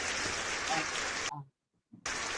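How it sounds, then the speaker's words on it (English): Podcast audience applause for a guest, a dense, loud wash of clapping that drops out suddenly into near silence and a few faint sounds, then resumes just as loudly. "let's give her a round of applause"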